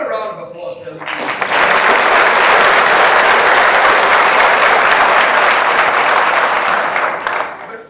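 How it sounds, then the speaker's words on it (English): An audience bursts into sustained applause after a short burst of speech, clapping loud and dense for several seconds before tapering off at the end. "How about a round of applause to them?"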